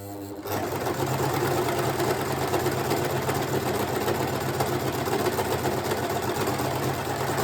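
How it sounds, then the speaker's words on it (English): An overlocker sewing machine starts abruptly and runs a test seam on dress fabric, a fast, even mechanical whirring with a rapid chattering rhythm held steady close to the microphone. "I'm now just going to test my overlocker as well,"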